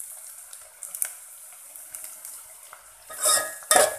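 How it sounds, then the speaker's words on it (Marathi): Chicken and onions for a spicy Khandeshi chicken tarri are stirred in a pan with a ladle: soft scraping and light metallic taps, then louder clanking scrapes near the end, with no talking. "त्यासाठी असं छान पळीने सतत ते परतवत राहायचं आहे।"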